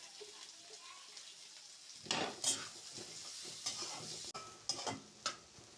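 Green and regular onions dropped into a hot pan for a chicken patty filling, a faint hiss jumping to a louder sizzle, then several clanking stirs of the spoon over continuous frying, with no talk.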